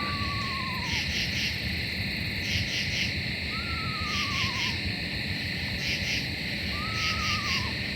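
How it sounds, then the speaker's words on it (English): Eastern screech owl giving repeated descending whinny calls, three drawn-out quavering trills spaced a few seconds apart at moderate distance, over a steady bed of night insects and crickets. "it's an eastern screech owl."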